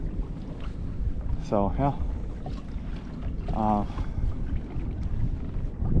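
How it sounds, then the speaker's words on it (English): Steady wind rushing over a Hobie PA 14 pedal kayak out on Lake Mead, a broad constant roar filling the clip with brief bursts of a voice over it. "I don't know if you can hear the wind."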